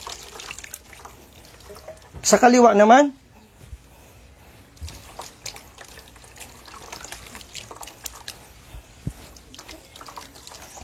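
Tap water runs briefly in a short loud burst during Islamic ablution (wudu), then stops while someone speaks calmly over faint background noise.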